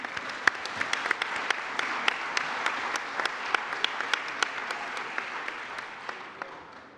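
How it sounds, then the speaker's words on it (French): A moderate, steady round of applause from a seated assembly during a French plenary session honoring newly named Legion of Honour knights, with individual sharp claps standing out over the even patter, fading slightly near the end. "Je pense qu'on peut les applaudir."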